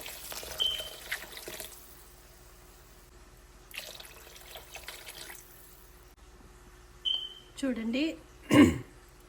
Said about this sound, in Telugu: సూప్ కాబట్టి మనం వాటర్ ఎక్కువగానే వేసుకోవాలి